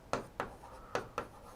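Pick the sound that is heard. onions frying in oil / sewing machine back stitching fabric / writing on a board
writing on a board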